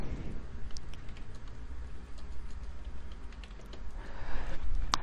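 Soft, steady clicking of keys being typed on a computer keyboard, a quiet continuous patter of taps heard alone with no talking.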